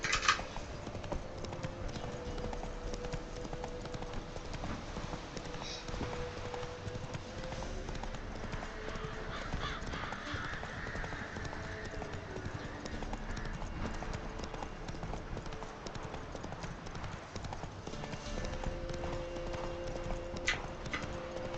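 The horse Roach clip-clops steadily in The Witcher 3, a constant rhythmic hoof beat under game music and ambience with some talk over it.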